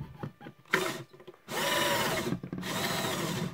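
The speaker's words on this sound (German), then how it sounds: "den kann man sich in seinen kleinen Bohrmaschine oder Akkuschrauber einspannen" A cordless drill driving a 3D-printed shredder whirs in two long bursts, close by, with a short stutter of the motor and clicks between runs.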